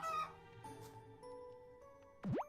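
Chickens in the video game Dor SoS cluck softly, and a bright jingling chime and a short rising-falling tone sound near the end of the quiet scene.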